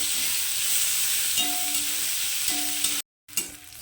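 Long-sliced onions fry in a hot pan with a steady, close sizzle and occasional stirring scrapes, broken by a brief silent gap before the frying resumes.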